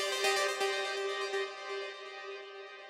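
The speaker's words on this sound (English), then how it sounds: "It's like a melodic techno synth," Synth motif from Serum in a melodic techno, future rave style, a sustained bright tone with a few plucked accents early on that slowly fades, played alone and fairly quiet.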